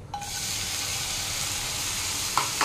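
Shrimp heads frying in a pan give a steady, close sizzle that holds evenly throughout, with a couple of brief clinks from stirring near the end.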